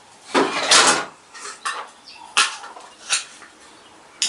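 Whole apples with the skin left on rubbed against a grater in a home kitchen, making several uneven rasping, scraping strokes that come close and fairly loud, separated by brief pauses.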